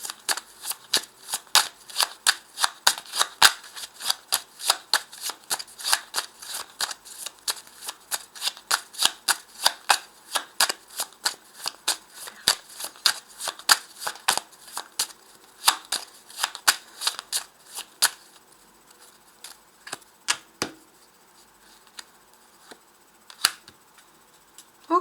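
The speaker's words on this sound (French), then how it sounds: "je vais rajouter ici un petit jeu de 32 cartes, voir qu'est-ce qui sort" A 32-card deck of playing cards is shuffled in a quick, steady run of crisp close-up snaps and flicks for about eighteen seconds, then only a few sparse card clicks follow.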